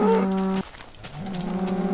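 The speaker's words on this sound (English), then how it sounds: "Speaking of cows, there you are, friends." Cows mooing in the video game Minecraft: a loud, close moo with a strong tonal pitch, a short gap, then a second lower, steadier moo, with no talking.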